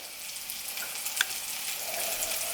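Vegan jerk mushroom meatballs fry in oil, giving a steady low crackle and sizzle that holds throughout, with one brief sharp pop near the middle and no voices.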